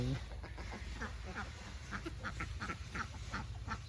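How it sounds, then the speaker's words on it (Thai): Egg-laying ducks kept in a converted pig pen quack repeatedly in a noisy flock, the calls close and overlapping over a steady low background hum. "พาทุกท่านมาดูเป็ด เขาเดินเล่นอาบเดดกัน ในช่วงกลางวันนะคะ"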